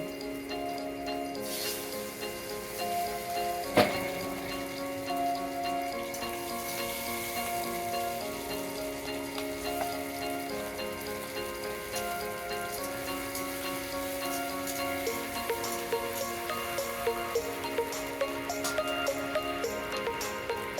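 Potato pieces frying in rohu fish oil for a poppy-seed fish curry, a steady soft sizzle and crackle running throughout, fairly quiet and close, with a single sharp clink partway through.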